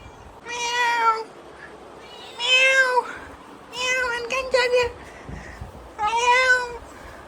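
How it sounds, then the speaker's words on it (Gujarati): A cat meows four times in a row, close and clear, each call rising and falling, with short quiet gaps between the calls. "મીંદડી આવી જો"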